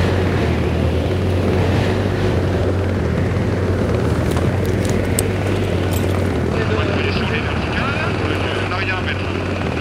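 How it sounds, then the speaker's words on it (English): Strong wind buffets a helicopter hovering over a mountain during a winch rescue, a steady loud rotor drone and gusty rushing noise filling the clip continuously throughout. "The wind has picked up, making winching even more dangerous."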